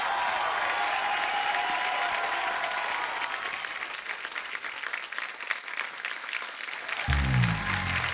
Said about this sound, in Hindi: ओ जोरदार तालियां एक बार बाबा जी के लिए।